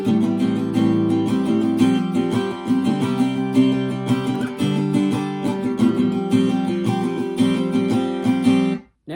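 Acoustic guitar playing the pre-chorus of a song in the Old Phone Pub version, a steady strummed chord progression at even volume, close and alone, cutting off abruptly at the end.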